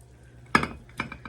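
A small metal pan clattering in a home kitchen, two quick clanks close by, the first louder, with no talking.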